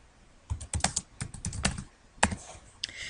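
Fingers tap out a quick burst of clicks on a computer keyboard, irregular and close, with short pauses between clusters of keystrokes and no voices.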